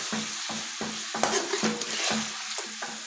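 Chopped garlic and coriander sautéing in a hot pan for tandoori potatoes, with steady sizzling broken by a regular rhythm of close scraping stirs, roughly two or three per second.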